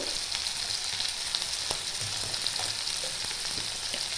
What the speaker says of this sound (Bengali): লঙ্কার গুঁড়ো, ভালো করে সব মিশিয়ে একটু কষিয়ে নেব।